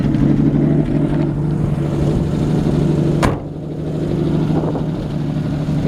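A 1966 Ford F100 truck engine idles close by with a steady, rumbling drone, broken by one sharp click partway through before the running engine carries on.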